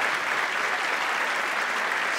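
Audience applause fills the room in a steady, dense wash of clapping at a live talk-show style event, loud and unbroken with no voices on top.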